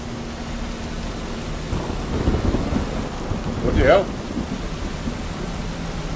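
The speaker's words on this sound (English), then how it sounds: "Loud thunder and lightning." Steady rain hisses throughout a thunderstorm in the video game American Truck Simulator while a deep roll of thunder swells and fades in the middle; a voice briefly speaks over it.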